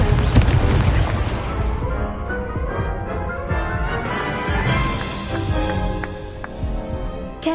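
Incendio fire spell cast in a Hogwarts video game, with heavy booming bursts and a rumbling whoosh fading into crackling, layered game effects.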